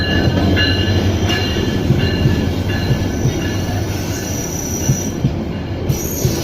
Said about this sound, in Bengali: উপকূল ট্রেনটি আসছে 8:27, প্রায় 5-7 মিনিট আগে কসবা পৌঁছে গেছে।